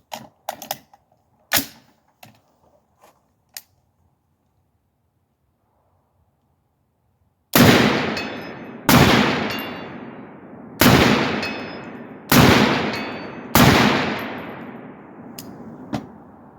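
AR-47 rifle fitted with a Deer Creek Stealth Blast muzzle device firing five loud, sharp shots in quick succession, each with a ringing tail, after some quieter clicks and handling noises.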